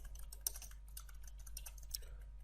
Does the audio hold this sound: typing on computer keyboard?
yes